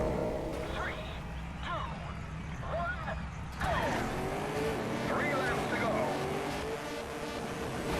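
Cars race in the arcade video game Trackmania, engines whining and rising in pitch as they speed past, steady and mid-loud, with someone talking over the game sound.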